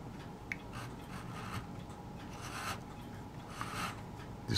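A hand file rasps carefully against a small model ship part in steady, quiet strokes, faint and close, with a few light scrapes and no talk.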